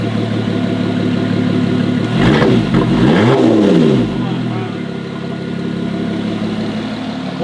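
Lotus Emira sports car with a Valvetronic titanium cat-back exhaust, valves open in sport mode, idling then blipped in a loud rising and falling rev, settling back to a steady rumbling idle close by.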